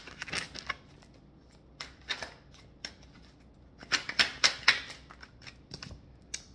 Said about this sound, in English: let me pick some working cards here for you guys